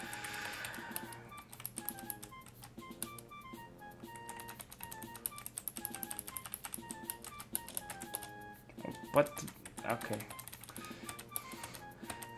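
Computer keyboard keys are tapped in quick, irregular bursts while typing into a Pokémon fan game, faint clicks under a soft game melody, with a brief spoken exchange and a louder clatter near the end.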